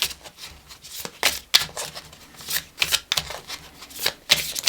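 Oracle cards are shuffled by hand in a tarot reading, giving repeated crisp riffling bursts and soft slaps at irregular intervals, close up and with no talking.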